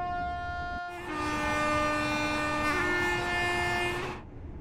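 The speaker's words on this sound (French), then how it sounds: "ça vous permet d'entendre le sifflet" A Class 801 train whistle in Train Sim World 4 sounds as a loud, sustained multi-tone blast with a slight pitch step midway, running about three seconds before cutting off, over steady rail rumble.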